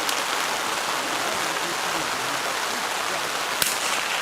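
Rain falls steadily and densely at an outdoor rimfire shooting match, a continuous broad hiss that fills the whole stretch with no talk, with one brief sharp tap near the end.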